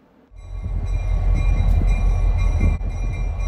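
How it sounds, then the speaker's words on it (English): A freight train rumbles steadily past at moderate distance in New Bedford, Massachusetts, a low continuous rolling drone with faint metallic tones, starting after a brief quiet moment. "They will turn their train on the wye and head back in the reverse direction."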